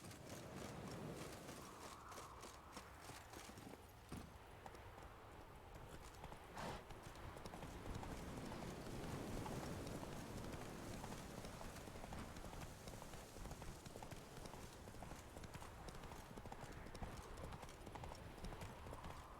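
Steady clip-clop of the horse Roach's hooves in The Witcher 3, a continuous galloping rhythm at moderate distance, with faint rain-like ambience underneath and no speech.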